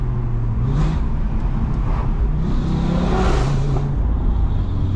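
A 550 bhp 2018 Audi RS3, decatted with an upgraded downpipe, drones loudly from inside the cabin with the windows down, its engine note rising and falling as it accelerates over steady road noise.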